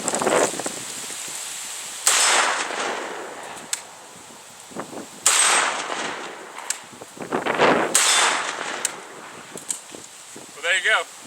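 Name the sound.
Zastava M85 PAP 5.56x45 AK pistol gunfire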